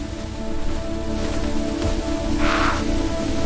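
A crow gives a single short caw over a steady background of rain-like noise in a children's story scene, with no voices.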